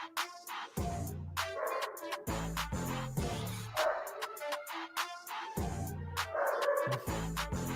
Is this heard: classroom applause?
no